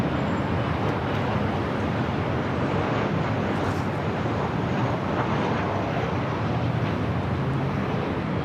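Southwest Airlines Boeing 737-700 arriving at LAX on runway 24 left, a steady broad jet roar holding loud and constant with no break.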